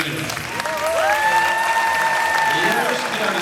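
Audience at a Latin dance championship final applauding from a large grandstand, a dense sustained wash of clapping with a voice speaking over it.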